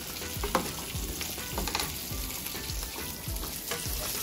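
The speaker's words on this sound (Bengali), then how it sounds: "এখানে আমি চিংড়ি মাছ ভাজতেছি" Small shrimp fry in a pan with a steady hiss and crackle. Soft periodic scrapes and stirs break through the sizzle, and no one speaks.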